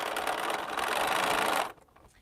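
A sewing machine stitches a quilt up close, a dense, steady mechanical whir that runs for about a second and a half and then stops abruptly, leaving faint room noise.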